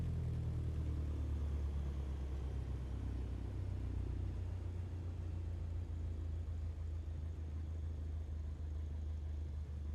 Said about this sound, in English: We can idle the RPM and see where it idles.